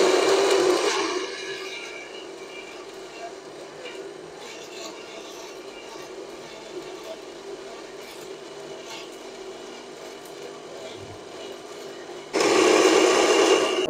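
A Black+Decker blender grinding vegetable cubes whirs loudly at first, drops to a quieter grinding hum for several seconds, then roars back up to full power near the end.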